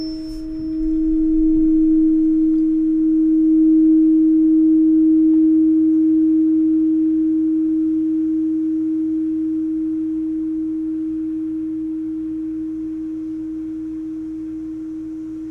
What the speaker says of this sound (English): I'm going to strike the tuning fork specifically for the brain now